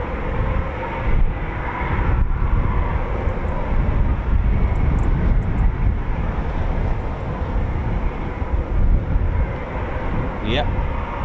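A Eurofighter Typhoon FGR4 taxiing at an RAF station, a steady broad jet rumble at middle distance that holds throughout, with people talking over it.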